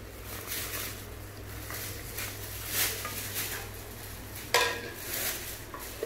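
Japanese frying pan handled on a counter, with scattered metallic clinks and scrapes, one sharper knock partway through, over a quiet low hum.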